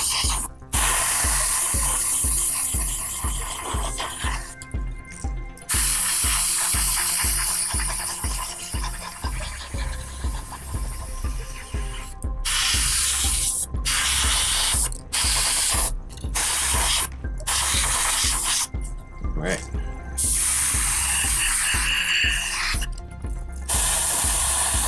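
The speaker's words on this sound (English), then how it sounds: "it doesn't hurt to spray a dark sea gray onto here" An airbrush sprays dark sea grey paint onto model wings in a steady, close hiss, interrupted by several brief pauses as the trigger is released and pressed again.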